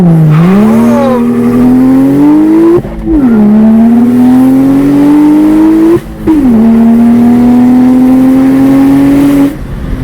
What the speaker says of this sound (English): I'm gonna post a clip of the M235i when it's straight pipe